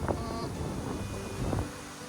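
Strong wind gusts across open fields in autumn, a low, steady rumble buffeting the microphone for a couple of seconds.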